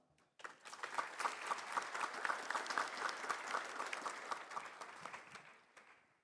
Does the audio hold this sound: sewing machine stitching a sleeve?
no